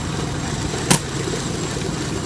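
Steam hiss from a three-truck Shay steam locomotive running on a stand: a steady rushing mechanical drone with a short, sharp burst near the middle before the constant sound resumes.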